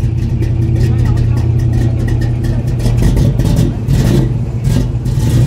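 A Chevrolet US car with a swapped-in V8 engine at a classic car gathering, its engine loud and close, idling with a deep rumble, then revving in several rising bursts over the steady background of the gathering.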